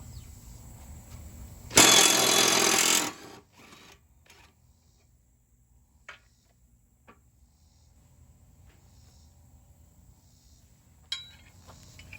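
A Craftsman lawn mower deck blade is sharpened in one loud, harsh grinding burst of about a second, then faint clicks and handling noises in a quiet room.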